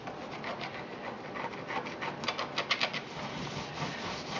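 A wooden dowel scrapes leftover putty off a stained glass panel, making quiet, repeated rubbing strokes that grow into a denser rhythmic scratching run near the end, close by with no talking.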